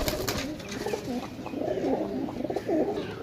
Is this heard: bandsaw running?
no